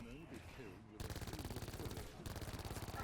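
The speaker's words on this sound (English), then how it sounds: "I'm gonna shoot one more and then switch to mine." Automatic gunfire rattles in rapid, evenly spaced bursts during a zombies video game, loud and close, with a short pause between two volleys and a voice briefly heard before the shooting.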